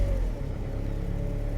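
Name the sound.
rebuilt Chevy Cobalt engine starting up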